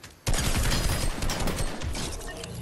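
Rapid, dense gunfire erupts suddenly in a Fortnite match, a near, loud burst of overlapping shots that keeps rattling on without a break.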